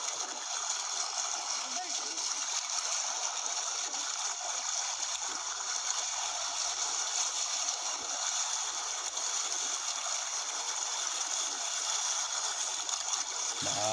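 Sea waves break against rocks along a rough shoreline, giving a continuous, loud hiss and wash of churning water with no clear pauses, steady throughout.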